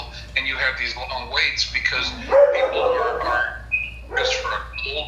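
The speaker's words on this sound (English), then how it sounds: "Sorry about the dogs in the background." Dogs yip and bark in the background of a room, in short repeated bursts, under someone speaking steadily in the foreground.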